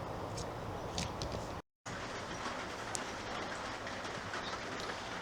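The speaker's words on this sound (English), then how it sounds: "So the rain has come" Steady, dense rain pours down with a constant broadband hiss, broken briefly by a short dropout, with occasional faint patters and clicks on top.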